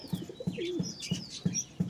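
A pigeon being held gives soft, low coos in a steady pulsing rhythm, about three per second, close up, with lighter chirps from other birds in the background.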